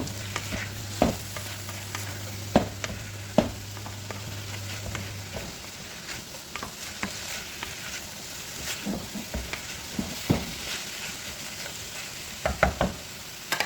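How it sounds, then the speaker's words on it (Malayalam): Carrots stir-fried with chicken masala in a pan for Chinese-style noodles, giving a steady sizzle under repeated scraping and stirring strokes, close and alone with no talking. "ക്യാരറ്റ് ഇതിലോട്ട് ഒന്ന് ആഡ് ചെയ്ത് കൊടുക്കാം"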